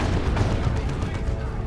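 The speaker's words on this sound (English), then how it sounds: "Is that another autocannon? I think it is, yep." Autocannon fire in the strategy game Dawn of War 2, a dense stream of gunfire and booms over a busy battle din, loud and continuous, with commentary talk running over it.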